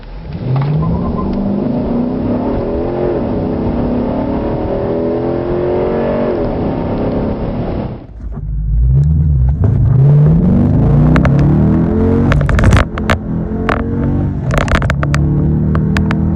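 A Dodge Challenger accelerates hard in two runs. The engine roars loudly and climbs in rising sweeps through the gear changes, and the second run sounds closer, with a deeper rumble and some clicks and knocks.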